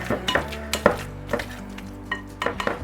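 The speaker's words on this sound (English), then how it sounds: "in the bowl, we're just gonna go ahead and mash them up" Cooked acorn squash gets mashed in a bowl, with a series of dull, irregular knocks and scrapes of a utensil against the bowl, close and fairly loud, and no voices.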